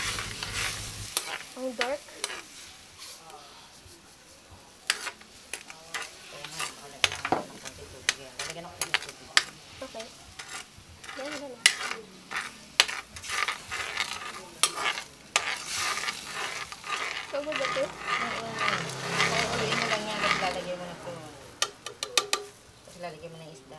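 Soy sauce and sugar being stirred into a sweet and sour sauce for tilapia, a spoon scraping and clinking in a sizzling pan in steady repeated strokes, with people talking intermittently in the background.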